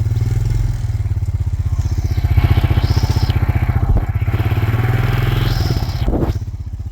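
A heavy vehicle engine pulls away in first gear on an uphill stretch, a steady loud low drone with rumbling mechanical clatter and rising revs, close up throughout.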